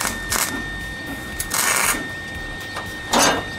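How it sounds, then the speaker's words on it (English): Several short crackling bursts from a welder dialed to its lowest setting as tack welds go onto a VW Beetle decklid spring tab, three brief hissing zaps separated by pauses, fairly close. "All right, I got the welder dialed back as far as it'll go. I'm gonna try to just get a couple of tacks on here."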